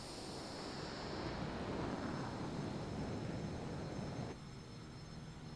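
An Aerosoft Twin Otter airplane in a flight simulator drones past as a broad, steady roar that swells and then drops off abruptly, leaving a quieter hum, fairly faint overall.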